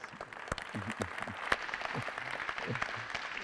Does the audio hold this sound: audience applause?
yes